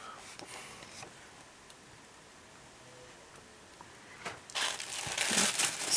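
Tissue paper wrapping a Stampin' Up card-making kit crinkles and rustles close by, with scattered soft crackles that swell into a louder, sustained burst of crumpling toward the end.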